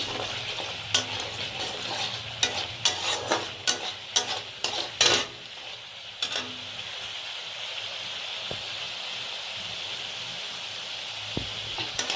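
Kashmiri chili powder, a little sugar and spices frying in oil for a cauliflower roast: quick spoon scrapes and clicks over a sizzle for several seconds, then a steady, softer hiss with only occasional taps.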